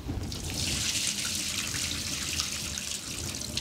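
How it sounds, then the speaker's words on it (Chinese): Pork kidneys rinsed in a kitchen sink under clean running tap water: a close, continuous splashing rush of water that stays steady throughout, with no talk. "最后再次用清水给它清洗一遍"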